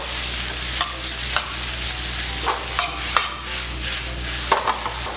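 Shredded pork and egg fried rice with soy sauce stir-fried over high heat, a steady loud sizzle broken by several sharp scrapes and clanks of the spatula against the wok, with no voices.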